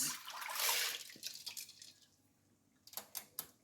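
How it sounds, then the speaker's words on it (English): Water pours steadily into a cooking pot while a carrot and bean stew is being made, a strong rushing splash up close that tapers off into a few scattered drips and small splashes. "So I'm going to be adding some water, just some water."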